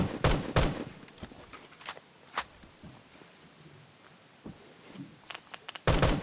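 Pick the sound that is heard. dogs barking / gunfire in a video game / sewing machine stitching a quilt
gunfire in a video game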